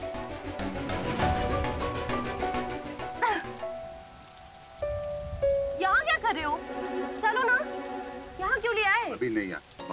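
Heavy rain pours in a Hindi television drama scene, a dense steady patter mixed under loud dramatic music with sweeping tonal swells and stings throughout.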